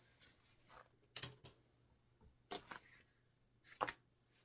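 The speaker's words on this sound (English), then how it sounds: "we're just going to cut anything extra off" Several crisp scissor snips cut through fabric in short bursts, close by, separated by quiet pauses.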